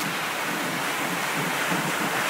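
Water sprays in a dense, steady hiss as a house's exterior is rinsed during a soft wash. The spray is loud, continuous and close, and no one talks over it.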